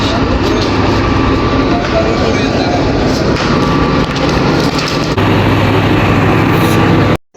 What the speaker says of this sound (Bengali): এই যে আমাদের মহানগর এক্সপ্রেস প্রায় 1 ঘন্টা লেটে চট্টগ্রামে এসে পৌঁছেছে।